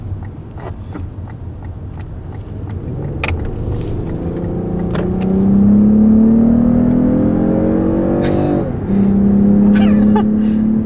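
A 2020 Lexus ES 350 F-Sport V6 accelerating in sport mode with amplified engine sound, its rising drone climbing steadily, briefly dipping at a gear change, then resuming loud and close inside the cabin.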